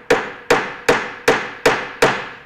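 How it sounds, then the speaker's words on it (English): Hammer blows ring out on a metal bracelet being formed over a steel stake, six sharp, evenly spaced strikes with short decaying rings, close and loud, with no talking. "overlapping hammer blows."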